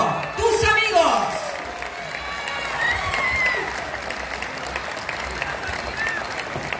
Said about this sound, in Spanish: Los recibimos, como se merece, con un aplauso bien en alto.